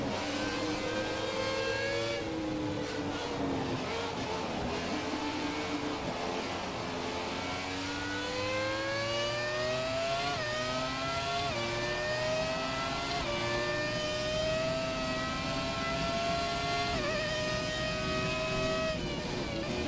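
A Formula 1 car engine in the F1 2017 video game at a wet Silverstone wails continuously and loudly, its pitch climbing through repeated upshifts with brief drops between gears, no voices over it.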